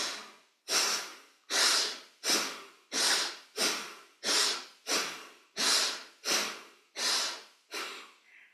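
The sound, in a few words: forceful inhaling and exhaling during a breathing exercise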